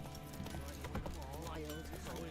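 Roach the horse gallops in Witcher 3, hooves clip-clopping in quick rhythm beneath continuous game music and a speaking voice, fairly quiet overall.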